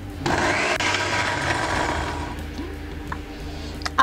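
Kitchen blender whirring through thawed strawberries and basil leaves: a loud motor roar kicks in, holds steady, then eases down to a lower hum before stopping with a small clunk.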